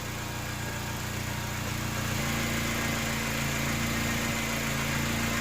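A 2009 Mini Cooper Clubman engine idles steadily from a cold start after a thermostat housing replacement, a constant loud mechanical drone with a slight shift in pitch partway through and no voices.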